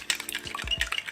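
Sweet potato pudding batter with brown sugar being stirred in a bowl: a quick burst of clinking and scraping utensil-on-dish strokes, close and fairly loud, with no talk.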